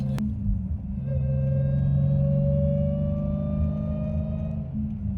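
A manual Dodge Hellcat's supercharged engine idles then revs with a rising whine, a steady low rumble under a climbing supercharger pitch, close and loud.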